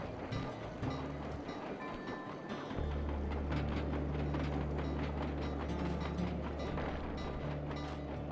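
A train in the video game Sly 2: Band of Thieves rolls along with a continuous rumbling drone and rhythmic mechanical clatter, steady and fairly close, without voices.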